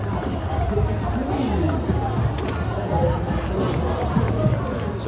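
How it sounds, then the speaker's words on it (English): Crowd of fans cheering and hubbub at a BMX freestyle park world cup semi-final in Hiroshima, a steady, fairly loud roar with a commentator talking over it throughout. "You can hear our fans out here cheering the American on."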